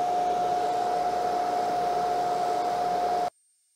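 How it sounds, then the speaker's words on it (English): An ARBE jewelry polishing machine running while jewelry is polished with compound, a steady close whirring hiss with a constant hum, which cuts off abruptly near the end. "Add some polishing compound to it. So now I'm just going to take this and polish it up."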